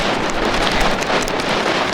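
Strong storm wind roars in broadband gusts close to an outdoor microphone, a steady loud rush with buffeting that sounds partly like rain, no voices.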